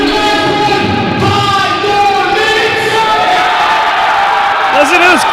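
A wrestling crowd roars and chants at a live event, loud sustained voices with rising tonal shouts and whoops layered over a dense crowd din.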